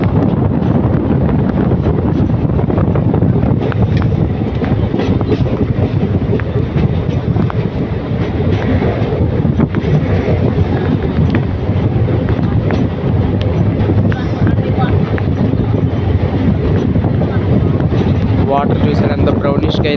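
MEMU express train 17258 running from Kakinada Port to Vijayawada in the early morning, a steady loud rumble and rush with wind buffeting throughout, continuous with no breaks.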